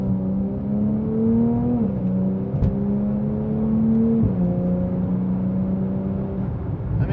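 A Porsche 992.1 911 Turbo S cruises on a highway with a steady engine drone from inside the cabin, its pitch stepping up and down through quick gear changes, loud and continuous.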